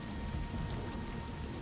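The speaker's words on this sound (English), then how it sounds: "It is raining." Steady rain hisses and patters continuously in the Western video game Desperados III, a soft, even wash of rainfall with no voices.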